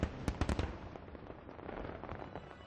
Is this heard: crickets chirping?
no